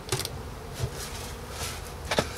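Honeybees buzz faintly around a small nucleus hive during an early-spring inspection, a soft, continuous hum with a few louder passes close by.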